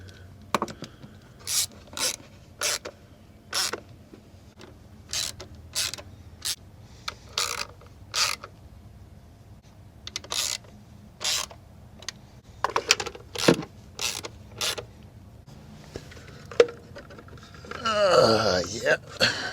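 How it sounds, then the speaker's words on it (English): A stubby Snap-on ratchet turns bolts on a 2018 Chevy Sonic engine during cam cover replacement, giving a steady run of sharp, evenly spaced clicking bursts close by, then a rougher rasping scrape near the end. "I like these little stubbies, snap-on."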